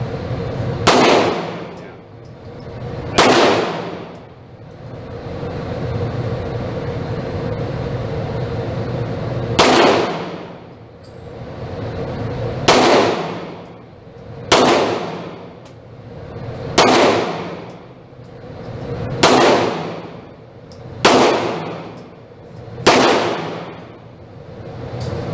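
Pistol rounds striking steel targets at a Texas shooting range, about ten sharp cracks each followed by a ringing metallic clang, spaced a couple of seconds apart, loud over faint background murmur.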